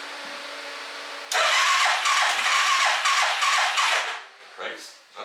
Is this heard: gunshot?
no